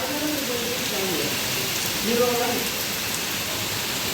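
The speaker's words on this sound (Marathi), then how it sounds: "हे बघा किती जोरात पाऊस चालू" Steady, dense rain hisses continuously throughout, with a faint voice briefly audible beneath the downpour.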